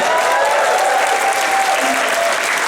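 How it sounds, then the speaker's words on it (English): A convention panel audience claps and cheers steadily, a dense, loud wash of applause that holds at full strength for the whole stretch. "I need a louder applause for Pro Jerry."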